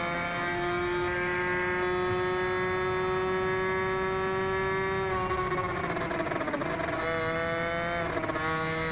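Cagiva Mito 125cc motorcycle engine in the Ride 2 racing video game, a steady high buzzing drone that holds pitch, then dips and rises around gear changes, continuous and loud.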